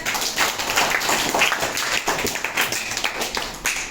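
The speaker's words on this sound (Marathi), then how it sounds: "सर्वांनी एकदा टाळ्या द्या." A class of schoolchildren claps together in a municipal school classroom, quick uneven hand claps overlapping into a lively patter that stays fairly loud and close for a few seconds.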